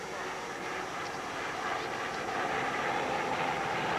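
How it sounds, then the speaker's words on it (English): A formation of Jet Ranger helicopters passing by at a military display in Pakistan, a broad, steady engine and rotor roar that swells slightly as they go over, with no voices. "ये jet ranger helicopters की formation आपके सामने से गुजर रही है"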